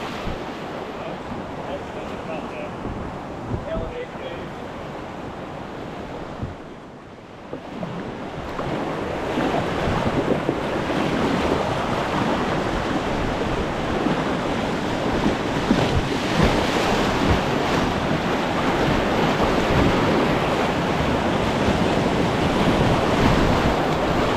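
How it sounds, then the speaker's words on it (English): Roaring Class 5 whitewater on the Nantahala Cascades, a dense, continuous rush of churning water that briefly dips and then swells louder, with wind buffeting the microphone throughout. "my first adventure into Class 5 type rapids"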